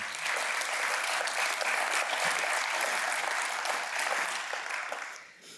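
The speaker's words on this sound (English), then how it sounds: "please give them another round of applause." Audience gives a round of applause at the Bellwether League Foundation event. Dense, sustained clapping from a large crowd holds evenly and then tapers off at the end.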